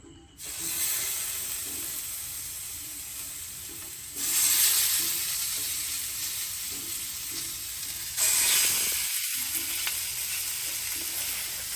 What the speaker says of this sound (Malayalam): നമ്മളെ മസാല തേച്ച മീനെടുത്തിട്ട് അടിപൊളിയായിട്ട് അങ്ങോട്ട് ഫ്രൈ ചെയ്യുക